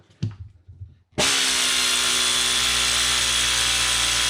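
An Aircat pneumatic air ratchet starts after a second of faint handling noise and then runs continuously at a loud, steady, high-pitched whir, close to the mic.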